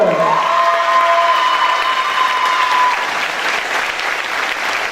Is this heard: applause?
yes